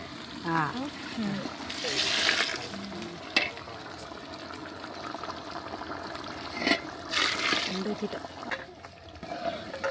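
Water is poured over hands outdoors in a coconut grove while cooking chicken biryani, giving a couple of splashy pouring bursts amid people talking nearby.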